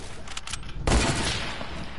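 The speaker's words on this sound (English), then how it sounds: "Fine, I'll just use my hunting rifle on you." A hunting rifle fires in a video game, a sudden loud broadband blast near the one-second mark that rings out into a sustained roar, with faint game ambience before it.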